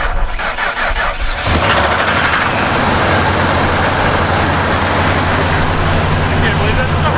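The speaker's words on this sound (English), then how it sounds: "Flowmaster 40s are louder than I remembered." Worn-out Ford F250 truck engine cranking briefly, then catching and roaring to a loud, steady rumble through Flowmaster 40 mufflers, with the dense exhaust drone filling the rest.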